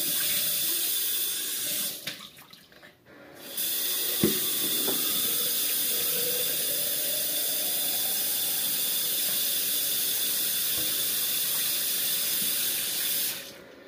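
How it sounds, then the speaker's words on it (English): Tap water runs into a sink to rinse quick oats, a steady splashing hiss that briefly cuts out and returns, with a few clinks of handling, then flows continuously until it stops near the end. "Okay, so I have my quick oats here, and I'm gonna rinse this out."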